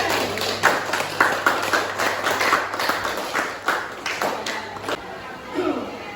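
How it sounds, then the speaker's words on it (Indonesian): Students clap for a presenting group in a classroom during a lesson, scattered uneven claps and taps rather than a dense roar, moderately loud, with a few voices murmuring under and after it. "Kita kasih tepuk tangan dulu buat semuanya."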